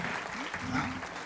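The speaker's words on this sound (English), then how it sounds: "Please give him a warm applause" A brief burst of audience clapping at an academic memorial lecture, short and fairly dense, with voices mixed in.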